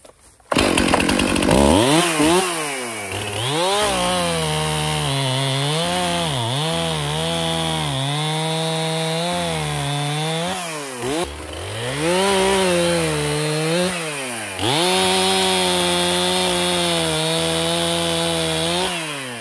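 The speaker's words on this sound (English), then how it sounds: "Let's do some limbing with the Stihl." Stihl chainsaw limbing a red oak, loud and close, the engine revving up and bogging down repeatedly as it cuts through branches, with brief drops in pitch under load and steady idle-to-full-throttle cycles.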